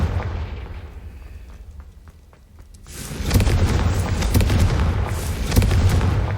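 A Confringo spell explosion in the Hogwarts Legacy video game rolls in as a loud, sustained blast and rumble, following quieter crackling bursts, with no talking over it.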